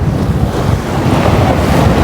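Strong cyclone wind roars and buffets the microphone beside flood water surging over a road in Jaffna, Sri Lanka, a loud, dense, unbroken rush with no voices.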